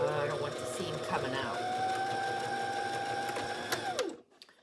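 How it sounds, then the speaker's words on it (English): A sewing machine stitching binding onto a quilt, humming steadily with a whirring motor tone that winds down and stops near the end, while someone talks over it. "sew it at 1/4 inch, and if you make a mistake, you can take it out and redo it"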